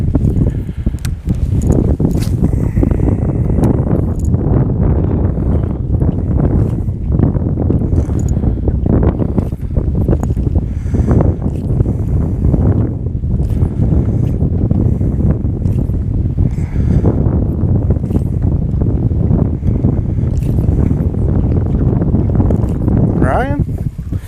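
Strong wind buffets a fishing boat on a current-pushed stretch of water, producing loud, gusty rumbling microphone noise throughout with occasional knocks and splashes.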